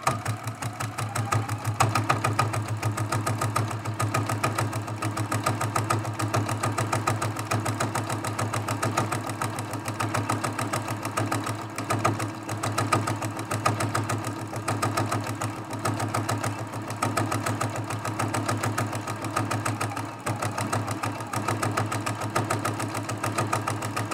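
A sewing machine stitches a hummingbird and flowers quilt, its rapid even mechanical hum and needle chatter running steadily and close without pause.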